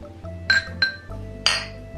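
Three bright glass clinks as glasses touch in a toast, spaced about half a second apart, sharp and close over a low steady hum.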